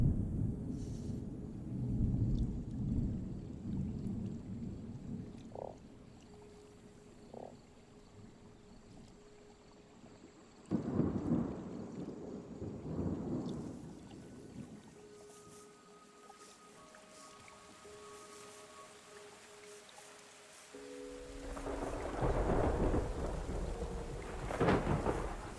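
Thunderstorm with rain in the weather-control video game Terra Nil: steady rain hiss broken by several heavy rolling thunder rumbles, with loud booming bursts near the middle and end.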